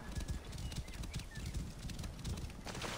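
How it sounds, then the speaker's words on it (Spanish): Rapid hoofbeats of a horse galloping across sand in the Assassin's Creed Origins video game, a steady close clip-clop rhythm running throughout over a constant wind-like background. "hemos cogido el caballo más rápido"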